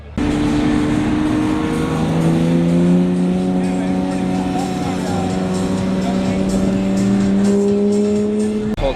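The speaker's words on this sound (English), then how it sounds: "We got the red Ford GT right here heading out." Red Ford GT pulling out at a car show in Columbus: a loud, close engine drone whose tones slowly climb and hold steady as the car moves off.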